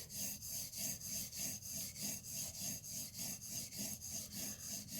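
A knife blade is stroked back and forth on a sharpening stone to raise a burr, a rhythmic rasping scrape repeating about three times a second, close and fairly quiet.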